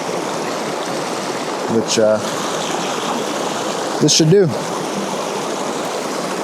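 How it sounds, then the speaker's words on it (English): An open mountain river in New Mexico flows with a steady, close rushing wash that runs without a break, while someone speaks briefly twice over it. "So just wanted to find a more open river"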